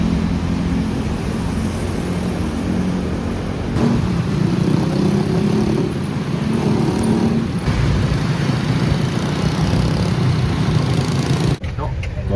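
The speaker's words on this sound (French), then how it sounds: "On va faire de la moto." A motorcycle ride in Vietnam, with a steady low engine drone and wind rumble running throughout and people talking over the noise.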